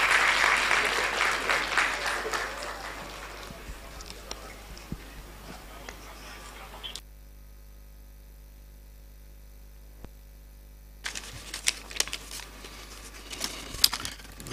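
Applause from the audience at a law alumni association launch and public lecture, loudest at the start and thinning over several seconds. A near-silent stretch with electrical hum follows, then faint scattered sounds return.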